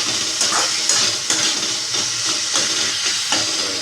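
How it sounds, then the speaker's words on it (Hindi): Tomatoes cooking down in salt in a pan for brinjal bharta give a steady, close sizzle and steamy hiss, with faint stirring scrapes now and then and no talking. "ये पकते हैं, बिल्कुल टमाटर गल चुके हैं"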